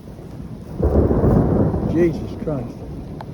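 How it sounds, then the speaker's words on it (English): A thunderstorm with rain breaks outdoors near a house and trees: a loud, deep thunder roll swells over a steady hiss of rain. A man briefly exclaims during it. "it's just started raining again"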